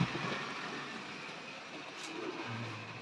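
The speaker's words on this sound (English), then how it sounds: "It's a quick little train" A Tri-ang model railway train running on its track, a steady close rumble with faint clickety-clack over a few seconds, heard without any speech.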